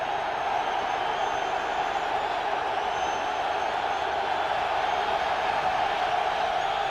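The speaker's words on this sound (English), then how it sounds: "This crowd down here in the end zone is awfully loud" A loud football stadium crowd roars in the end zone during an NFC divisional playoff in Chicago, a dense, unbroken wall of cheering noise at steady high volume.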